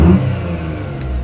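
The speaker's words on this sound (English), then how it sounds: "You can hear a lot more of the air being sucked into the engine." Small VW Fox 1.2 petrol engine fitted with a cold air intake, revving as heard from inside the car: a steady low engine drone with induction rumble, loud at first, then settling into an even hum.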